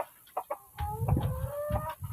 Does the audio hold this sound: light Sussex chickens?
yes